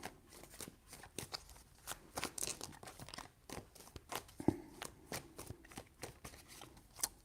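Tarot cards riffle and slap in quick, irregular bursts, quiet and close, repeated many times without any talking.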